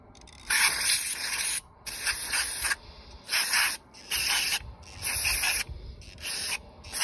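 Aerosol carb cleaner sprayed onto oxygen sensors from a 2006 Ford F-150 4.6L V8, in five or six loud hissing bursts of about a second each, separated by short pauses.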